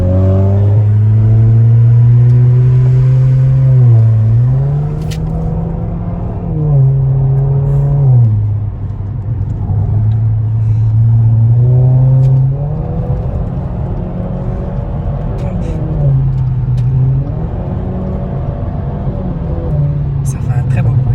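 Modified Audi A5 four-cylinder engine heard up close, a loud steady drone that rises and falls as it is revved repeatedly, with people talking over it throughout.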